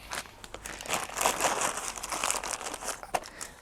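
A Ziploc plastic bag holding small tools for a Suzuki DR650 crinkles and crackles up close as it is handled, a continuous rustling with sharper crunches and one louder snap near the end.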